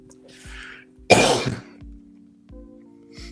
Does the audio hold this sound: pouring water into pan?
no